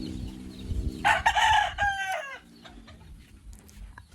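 A backyard rooster crows loudly and close, with several drawn-out harmonic calls, while chickens cluck intermittently in the background before and after.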